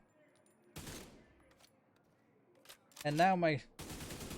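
Division 2 gameplay gunfire comes in two short bursts of rapid shots, separated by a quiet gap. A voice briefly speaks between them.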